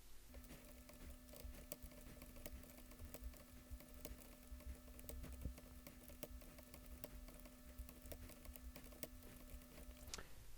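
Someone types on a computer keyboard while writing Visual Basic 2010 code. The keys give faint, quick, irregular clicks that continue steadily over a quiet electrical hum.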